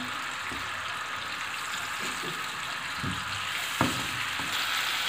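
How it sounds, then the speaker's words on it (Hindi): Steady sizzling of ginger and garlic frying in hot oil, with a few brief stirring clicks and scrapes near the end. "अदरक लहसुन को हमने गरम करके सौते करके इसमें मैंने डाल दिया"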